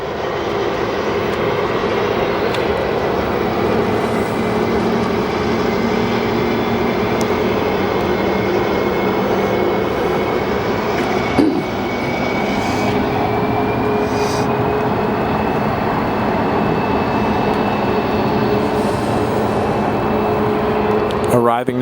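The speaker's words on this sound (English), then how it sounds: "Arriving now, we have American E175 LR from Santa Barbara." An American Airlines Embraer E175 jet arrives at Phoenix Sky Harbor airport, its steady broadband engine roar holding loud and even throughout, with a faint rising whine and some nearby voices under the din.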